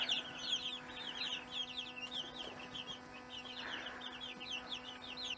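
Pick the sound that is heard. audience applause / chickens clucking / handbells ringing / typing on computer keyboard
chickens clucking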